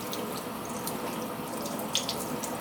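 Tap water runs steadily into a sink as a makeup brush is rinsed beneath it, a soft continuous splashing with a few faint drips.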